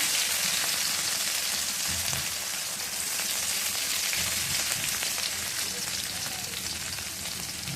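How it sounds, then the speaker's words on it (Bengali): Chopped green chili sizzles in hot oil in a pan, with bay leaves and chopped ginger, while moong dal is being cooked; a steady, close, dense frying crackle with no talk. "এবার দেখো লঙ্কা কুচি ভালো করে ভেজে নিচ্ছি"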